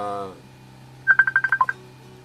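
A rapid run of about seven telephone keypad dialing tones beeps evenly after a brief voice at the start, heard near and clear over a faint steady hum during a live phone call.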